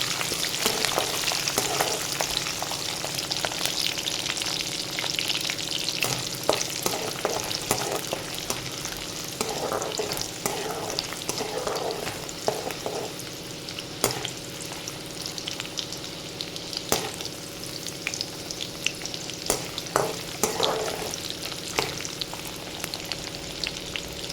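Chana dal, urad dal, mustard seeds and curry leaves frying in hot oil as a tempering for spinach fry, a steady dense sizzle with crackling pops throughout, close and fairly loud, no voices.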